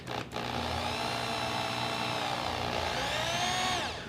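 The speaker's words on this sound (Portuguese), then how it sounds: "Com leveza você começa a fazer o furo." A drill bit bores a hole into a wooden sign, a steady, loud motor whine running continuously for several seconds and shifting in pitch slightly as the bit bites into the wood.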